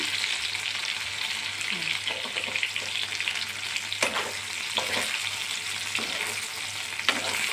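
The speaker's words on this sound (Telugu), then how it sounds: "చూసారా, బాగా ఫ్రై అయినాయి" Stuffed white brinjals fry steadily in a pan, a continuous close sizzle with a few sharper crackles and pops from the oil, no voices present.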